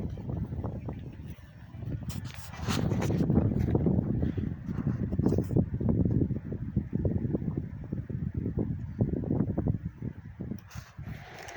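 Wind gusts buffet the microphone in a guava orchard, a continuous rough low rush that swells and fades in waves, with no talk heard.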